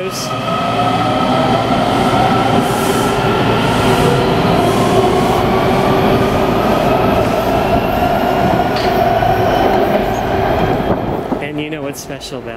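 A DC Metro subway train pulls out of an underground station, a loud continuous rumble of wheels and motors with rising whine, fading and thinning toward the end as it leaves; a few voices sit faintly underneath.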